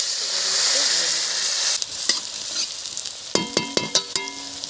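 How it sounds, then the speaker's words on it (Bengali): Two small onions and cumin seeds sizzle in hot oil, a steady frying hiss that turns into sharp metallic scrapes and clinks of stirring toward the end. "পেঁয়াজটা হাফ ভাজা হয়ে গেছে"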